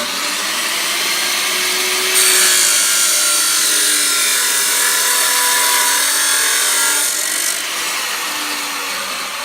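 A chop saw cuts through metal pipe for an expansion chamber, a loud steady rasping grind with a high whine that rises when the blade bites in and eases near the end, close and continuous with no speech.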